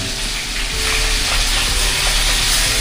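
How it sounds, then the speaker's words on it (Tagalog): Dried milkfish (bangus daing) fries in hot oil with a loud, dense, continuous sizzle and crackle, heard close up and alone for a few seconds. "Bangus na daing. Yung ating prito ay malapit na rin pong maluto."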